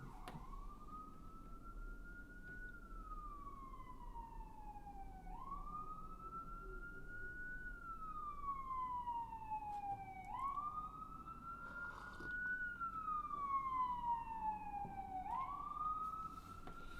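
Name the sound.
emergency vehicle sirens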